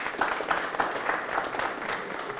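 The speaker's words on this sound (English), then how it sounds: "Let's clap for her." An audience claps for a woman on a Kenyan talk show about gender equality: a steady, moderately faint wash of many hands, dense and even, with no voices over it.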